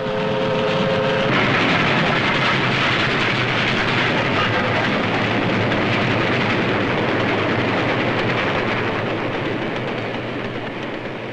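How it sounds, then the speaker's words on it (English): A freight train in 1944 hauling iron ore, coal and limestone to steel mills along the Mahoning River rumbles loudly and continuously, with a brief tonal horn-like sound at the start. "The men going to work can see the freight trains bringing in the raw materials"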